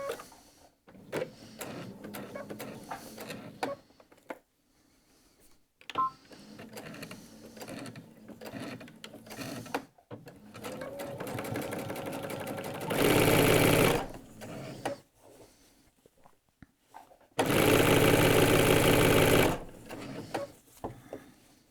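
A domestic sewing machine runs in several bursts while stitching the curved front border of a jacket, with two long loud steady whirring runs near the end and quieter stretches of handling noise between them.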